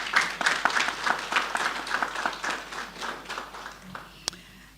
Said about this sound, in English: Let's give the clinic a round of applause.